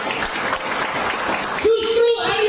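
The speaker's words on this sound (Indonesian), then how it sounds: "Tepuk tangan." A church congregation at an Indonesian worship service breaks into applause after the preacher's call, a dense wash of clapping that gives way to a held voice-like tone near the end.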